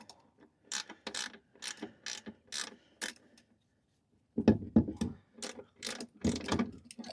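Hand ratchet tightening nuts on a truck running-board bracket, with bursts of rapid close clicking, a short pause, then more ratcheting strokes.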